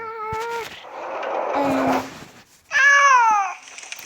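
A house cat meows twice indoors, each a clear, drawn-out call close to the mic, the first short and the second louder and longer, with a soft rustle between them and no talk.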